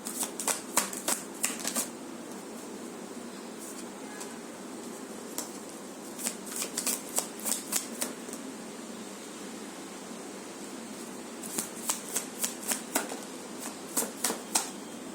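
Tarot cards being shuffled in bursts of quick riffling flutters, clustered near the start, middle and end, with quieter pauses between against faint room hiss.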